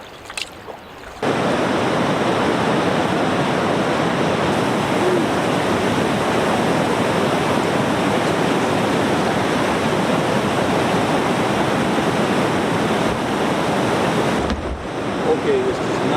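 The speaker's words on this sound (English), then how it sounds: "I can hear rushing water back in the woods." Rushing water in wooded lake country in Quetico is a steady, loud broadband wash that holds evenly for about thirteen seconds after a quiet start, then cuts off abruptly.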